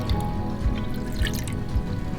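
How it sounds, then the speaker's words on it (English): Water is poured from a pitcher into a measuring cup, a steady close trickle with small splashy drips, heard alone without talk. "And I'm going to first pour it into the measuring cup."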